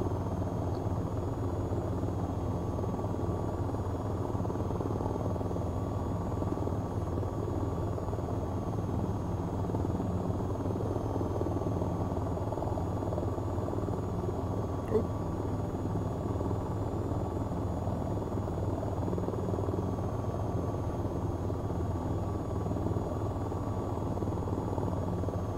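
A helicopter close by, its rotor and engine making a steady, loud, unbroken drone throughout with no voices.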